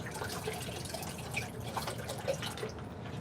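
Water being poured or trickled during a late-night coin ring making session, a continuous splashing and dripping wash with small gurgles throughout.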